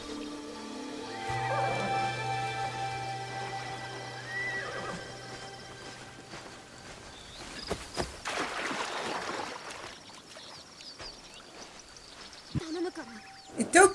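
A horse in the Assassin's Creed Shadows video game whinnies loudly, followed by clip-clopping hooves and shuffling movement, with a flowing stream and ambient game sounds in the background.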